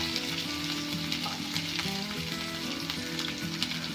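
Chopped onions sizzle steadily in hot oil while salt is sprinkled over them and the pan is stirred, with a bright continuous crackle and occasional scraping strokes throughout. No one speaks.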